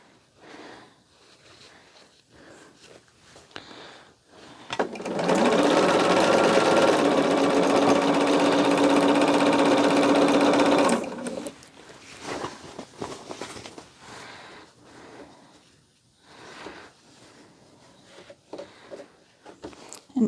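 A sewing machine stitches quilt pieces in one loud, steady run of about six seconds, bracketed by quieter handling and rustling before and after.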